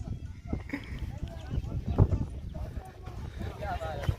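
A ridden horse walks with loose, uneven hoof clops among people talking and laughing nearby, the steps irregular and partly buried under the chatter.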